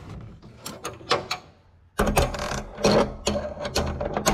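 Ratchet wrench with a deep well socket tightening a part during a Gleaner combine slip clutch rebuild, heard as close bursts of rapid clicking strokes, a pause, then louder repeated ratcheting.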